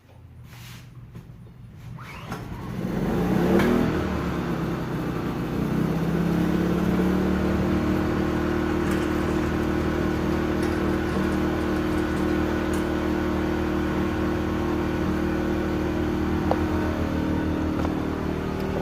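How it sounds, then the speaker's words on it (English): A Predator 2000 portable generator engine fires up after a few quiet seconds, then holds a loud, steady mid-pitched drone while powering a George Foreman indoor/outdoor grill, with no talking. "So we're going to take this Predator generator, fire it up, and see if she'll run the George Foreman grill,"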